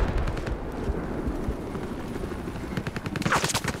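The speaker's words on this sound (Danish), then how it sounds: "They got me pinned down. Mange skud har jeg at gøre med." Dense automatic gunfire from the video game Battlefield Hardline rattles almost without a break, loud and close, with overlapping bursts and impacts.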